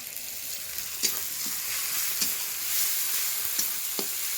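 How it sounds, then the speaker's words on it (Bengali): Cumin and onion paste frying in a pan in a village home kitchen, a soft steady sizzle with a few sharp scrapes of stirring. "মশলাটাকে এবার ভালো করে কষিয়ে নিলাম।"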